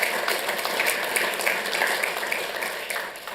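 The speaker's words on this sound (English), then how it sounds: "Yes, please, a round of applause" Applause from a council meeting audience, a dense steady patter of many hands clapping at moderate level throughout, with no voices standing out.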